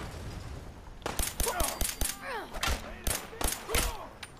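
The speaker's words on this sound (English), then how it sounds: "I am hearing gunfire on the other side." Gunfire rings out in the video game Fallout 4, a string of sharp shots spread over several seconds, some in quick bursts, moderately near over a low background murmur.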